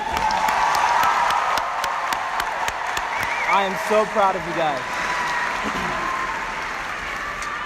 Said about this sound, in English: can we please clap it up for the class of 2018?